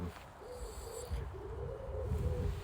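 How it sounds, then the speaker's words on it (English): Wood pigeons give soft, hollow cooing calls in a repeated low phrase close by, with faint rustling and background noise under them. "Oh, and here come the wood pigeons."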